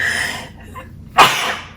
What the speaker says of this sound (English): I can feel like I'm gonna sneeze